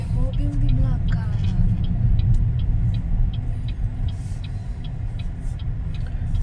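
A BYD Atto 1 electric car is driven on a road while turning back toward a bridge. A steady low tire and road rumble runs throughout, with faint ticking, and a person talks inside the cabin.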